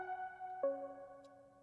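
A short pluck synth plays two sustained chords with no arpeggiator, the second entering about halfway with a soft attack, quiet and alone.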